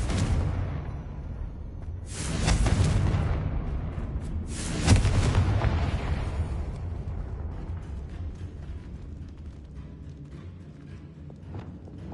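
Two loud, rumbling fiery blasts from the Confringo spell in Hogwarts Legacy, about two seconds apart, each swelling and decaying into a lingering low roar with no talking.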